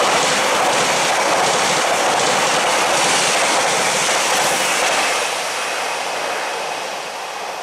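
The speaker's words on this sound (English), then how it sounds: "Now about to pass through the station is 1 Yankee 58, which I assume is a Northern Rail class 331 going from Blackpool North to Manchester Airport." A Northern Rail class 331 electric train runs through a station at Layton on the Blackpool North to Manchester Airport route, giving a loud, steady rushing roar close by that eases off slightly toward the end.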